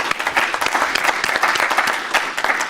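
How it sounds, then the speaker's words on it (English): Audience applause fills a town council meeting room, a steady burst of many hands clapping close by with dense, overlapping claps throughout, no talk over it. "if everyone would join me in a round of applause for everyone"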